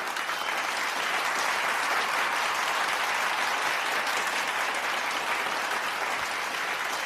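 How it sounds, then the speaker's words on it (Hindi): Dense, steady applause from a large audience greets a speaker at a Chicago address, a continuous wash of clapping that holds at an even, loud level throughout with no voices over it. "करीब 2 मिनट तक लगातार तालियां बजती रही"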